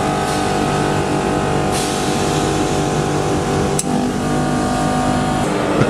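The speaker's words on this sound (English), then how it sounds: "The tone of the compressor is clearly changing immediately after each solenoid switching operation." Copeland digital scroll compressor running steadily at close range, its tone shifting sharply right after a solenoid switching click partway through, with a continuous broadband hum throughout.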